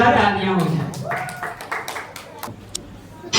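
Scattered audience clapping for school students at an Independence Day celebration, sparse individual claps following a voice at the start, thin and uneven rather than a full ovation.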